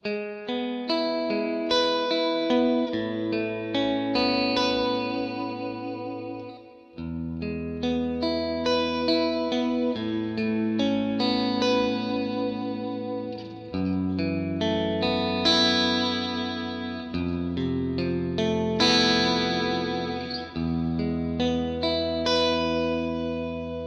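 Electric guitar phrases drenched in plate reverb, notes and chords overlapping as each one tails out into a long, shimmering decay over a steady, continuous passage.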